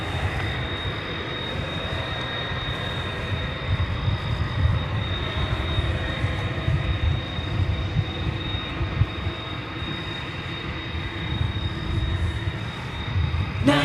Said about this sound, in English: can hear the MD revving up